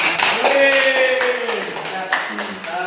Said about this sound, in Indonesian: boleh minta tepuk tangannya buat Aif Rahman.